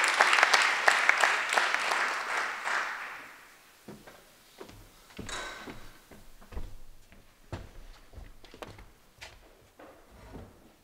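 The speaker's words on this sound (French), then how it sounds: "On peut l'applaudir." Applause fills a municipal council meeting for a few seconds, then fades into scattered knocks and shuffling from the room.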